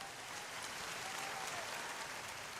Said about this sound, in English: Can I have more applause?